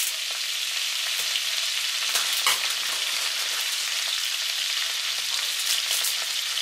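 Curry leaves and chopped chili fry in melted butter, a loud, dense, continuous crackling sizzle with occasional brief spatters and stirring sounds, no voices.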